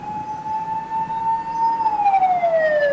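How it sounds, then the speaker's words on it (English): A wailing ambulance siren rises and falls in a long sweeping tone, fairly loud over a background rumble of road traffic. "We're going to follow these ambulances to Hyper City Mall"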